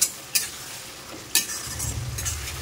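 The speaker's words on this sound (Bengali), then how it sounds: "মাংসটা কষানো হচ্ছে, মাটনের স্টু দিচ্ছি আর মাংস কষাচ্ছি।" Mutton being stir-fried in a pan as stew liquid is added, with a spatula scraping in a few sharp strokes over a steady sizzle that swells into a louder, thicker frying hiss toward the end.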